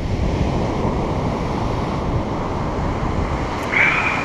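Surf rolls onto a beach on the Kalalau trail on Kauai's north shore, a loud continuous wash of breaking waves with wind buffeting the microphone throughout.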